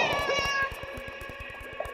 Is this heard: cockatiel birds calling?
no